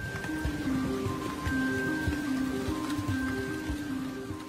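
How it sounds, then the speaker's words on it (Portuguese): Heavy monsoon rain pours steadily in India, a dense continuous patter of drops on surfaces with a faint tonal hum running underneath. "Trilhões de litros de água caem do céu"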